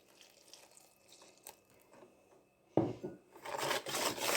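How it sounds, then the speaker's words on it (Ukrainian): Warm milk poured into a sweet dough mixture for homemade paska, a sudden splashing pour that starts after quiet rustling and continues steadily to the end, close and alone. "Далі виливаю тепле молоко"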